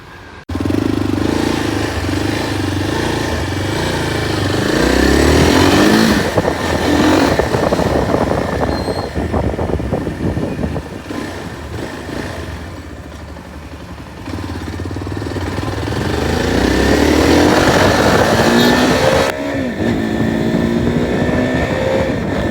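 A 334cc liquid-cooled single-cylinder motorcycle being ridden, its engine droning loud and close throughout, rising through gears with two clear acceleration surges and a brief easing in between, with no talk.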